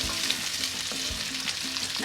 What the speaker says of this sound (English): So after a minute, you then add your garlic,